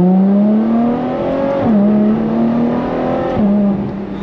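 A loud Ferrari F12 TDF V12 engine revs up close through rising gear pulls, pitch climbing and dropping at each shift.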